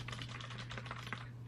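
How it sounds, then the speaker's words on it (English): Steady typing on a computer keyboard, its keys clicking in a quick, uneven patter at close range, with a constant low hum beneath and nobody speaking. "I do like the way the keyboard sounds."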